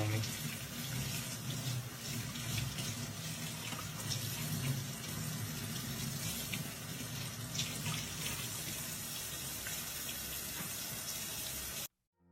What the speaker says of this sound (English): You can use cold water to get these yellow cleaning gloves off.